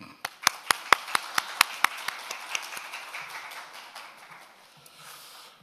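At a Korean energy forum, guests are greeted with sparse, distinct handclaps, a dozen or so sharp claps in a loose rhythm that quickly thin and fade into quiet room noise, with faint voices beneath.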